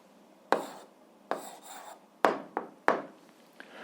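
Handwriting an algebra answer: four or five short scratchy strokes, each with a sharp start and a quick fade, close and fairly quiet, with no talking.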